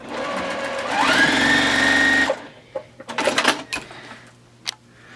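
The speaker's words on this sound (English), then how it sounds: "I'm going to put my sewing machine here, and I'm just going to start sewing down" A sewing machine whirs rapidly for about two seconds while stitching down quilt binding, then stops, followed by soft rustling and clicking of fabric handling.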